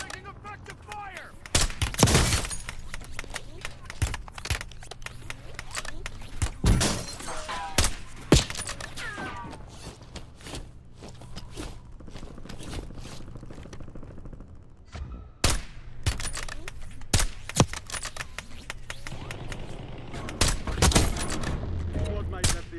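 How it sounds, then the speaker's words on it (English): Gunfire in a military squad video game shooter, sharp bursts of shots and cracks scattered irregularly through the scene, some loud and near, others more distant, with occasional radio-style voices mixed in. "Taking effective fire."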